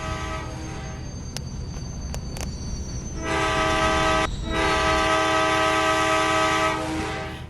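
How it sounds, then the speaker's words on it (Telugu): A train horn sounds in a 3D motorbike racing game pitting a Kawasaki Ninja against a train: a few sharp clicks, then loud sustained horn blasts with a brief break, over a low rumble of rail noise. "ఒకసారి ట్రైన్ వచ్చిన తర్వాత హార్న్ వింటారా గైస్?"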